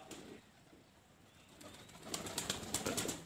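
Domestic pigeons kept by a pigeon fancier coo softly close by, with a light flutter and rustle building toward the end over a low background hum.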